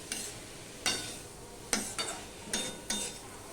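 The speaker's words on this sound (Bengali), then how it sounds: "এবার আমি এটাকে একটুখানি নেড়ে দিচ্ছি পুরো ঘেঁটে দিলাম বা নেড়ে দিলাম" A spatula stirs potato and eggplant curry in a pan, scraping in six distinct strokes spaced about a second apart over a faint background sizzle, close but fairly quiet.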